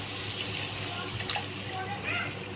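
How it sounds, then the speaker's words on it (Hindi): Water poured into a pan of spinach kofta curry with cooked spinach and tomato, a steady splashing pour heard close up for a couple of seconds without pause. "अब हम इसमें पानी डाल देंगे।"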